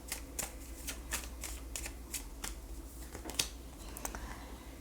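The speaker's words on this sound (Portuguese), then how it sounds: "Deixa eu trazer baralho cigano para a gente encerrar a leitura de" A Cigano fortune-telling card deck is shuffled and handled in a quiet room, giving a series of crisp, irregular card snaps and riffles, close and fairly faint.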